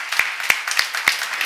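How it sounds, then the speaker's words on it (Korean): A church congregation at a Korean seminar claps together in a steady, rhythmic beat of loud, evenly spaced claps over a dense wash of applause. "박수 한번 하세요"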